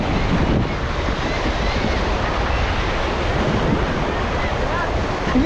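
Large ocean waves crash and roar continuously at close range for about five seconds, with heavy wind buffeting the microphone throughout.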